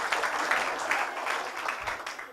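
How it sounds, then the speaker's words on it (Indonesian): An audience at a motivational seminar about future dreams breaks into brief applause, a short burst of crowd clapping that stays fairly steady before easing off. "Tepuk tangan."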